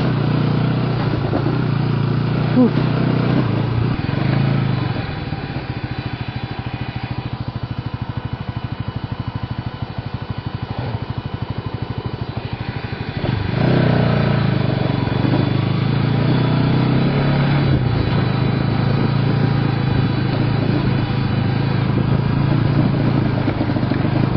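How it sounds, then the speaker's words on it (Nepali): A Bajaj Pulsar NS 200 motorcycle engine drones loud and close on an off-road mountain trail near Shivapuri, its pitch rising and falling as the rider works the throttle and engine-brakes downhill. "यो बाइकको आवाज"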